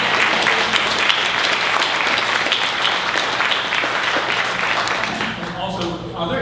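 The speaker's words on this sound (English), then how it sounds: "Another round of applause for our" An audience at a civic council meeting against hate breaks into sustained applause, dense clapping from a full room that holds steady and then begins to thin out near the end as a voice returns.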